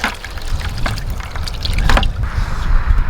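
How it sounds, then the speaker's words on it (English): Water streams from a garden hose with weak, low pressure into a bucket, a steady trickling splash that swells slightly louder toward the end, close by with no talking. "And then fill our bucket up with water here."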